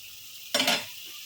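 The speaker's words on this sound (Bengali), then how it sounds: "মশলাটা কষাই নেই ঠিক আছে তো আর একটু কষাবো" Spice paste sautéed in a pan while cooking fish in a village kitchen, a brief loud burst of sizzling and stirring that flares up and fades within a second over quiet background.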